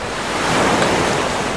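Huge ocean waves crashing onto a sandy shore, a loud continuous roar of surf mixed with strong wind buffeting the microphone.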